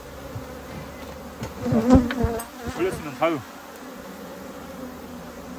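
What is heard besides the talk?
honeybees buzzing around an opened beehive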